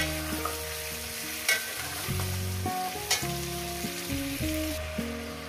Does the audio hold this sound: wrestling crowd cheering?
no